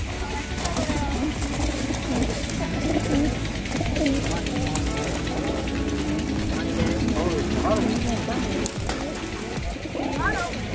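Pigeons coo and flutter close by amid rattling, clanking noises, with a voice speaking over the steady bird sounds.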